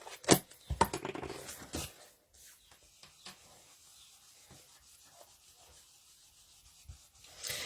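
Blue chalk paint is rubbed off in quick, close scratchy strokes for about two seconds, followed by near silence with faint small taps.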